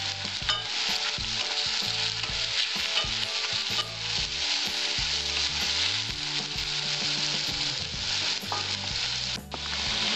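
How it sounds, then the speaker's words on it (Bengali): Potatoes fry in a pan with a continuous loud sizzle and crackle, broken by the scrape and shuffle of stirring, close up and with no talk. "আমার আলু ভাজাটা হয়েছে, এবার আমি আলু ভাজাটা তুলে নিচ্ছি।"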